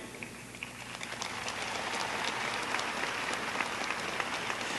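Graduates at a 2014 Belaire High School graduation ceremony applaud their families, a dense, steady wave of clapping from a large crowd that swells and holds for several seconds.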